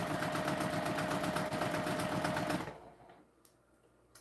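Sewing machine stitching doubled webbing for a heavy-duty key clasp, a steady rapid mechanical chatter close by that runs for about two and a half seconds then stops, leaving quiet room noise and a few small clicks.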